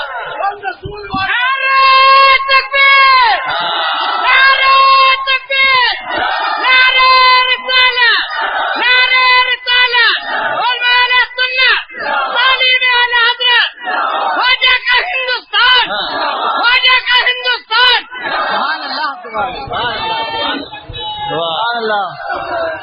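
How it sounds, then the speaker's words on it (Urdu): Large crowd at an Urdu-language religious sermon chanting slogans loudly in unison, repeated call-and-response bursts of massed voices with brief gaps, close and continuous. "بھائی اب نعرے موقوف کرو, اب نعرے موقوف کرو"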